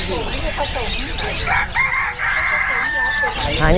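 A small bantam rooster crows loudly nearby, a strained high call, amid clucking hens and other farmyard birds at a poultry shop in Chatuchak market, with people talking in the background.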